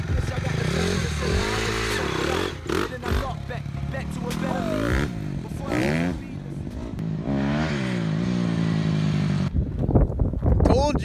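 A Honda CRF250 dirt bike engine revs repeatedly, its pitch rising and falling in sharp bursts at close range, with voices talking over it.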